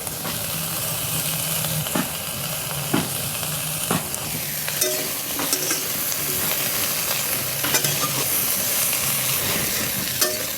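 Water lily stems frying and being stirred in a pan, a steady close sizzle broken by repeated spoon scrapes and clanks throughout.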